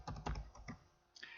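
Quick, soft clicks of typing on a computer keyboard, about half a dozen keystrokes in an uneven burst, close by and quiet.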